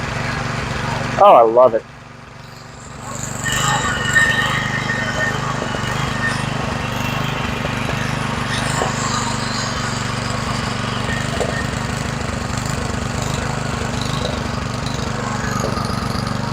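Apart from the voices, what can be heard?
McLane edger engine running after 19 years in storage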